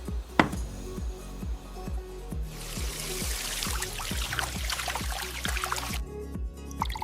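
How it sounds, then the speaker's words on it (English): Water pours into a glass in a home kitchen, a bright splashing stream starting partway in and running several seconds before stopping abruptly, over a steady rhythmic knocking beat in the background. "I pour water into a glass"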